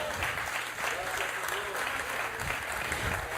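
A church congregation clapping in praise during a Spanish-language service: sustained, dense applause filling the room, with some voices and cheers mixed in under the clapping.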